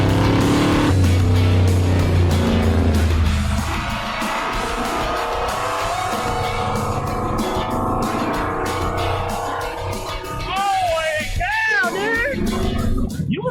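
A lifted Ford Ranger monster truck fitted with saw-blade wheels drives past loudly, its engine roaring steadily with rising and falling revs, tire noise over the top and brief squeals near the end.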